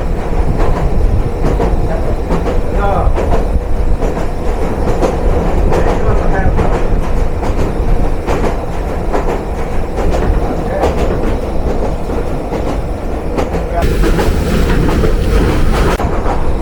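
A moving Kishoreganj Express train on the Dhaka to Kishoreganj run rumbles loudly and continuously inside the canteen car, with steady wheel clatter and car rattle throughout and occasional faint voices in the background.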